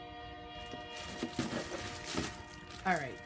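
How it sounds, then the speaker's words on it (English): A train passing by outside, with a sustained horn blast and rumbling rail noise rising near the end, heard faintly in the background under a person talking. "Honestly, not this many trains go by."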